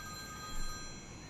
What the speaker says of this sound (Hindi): एक रात उसके घर की फोन की घंटी बजती है।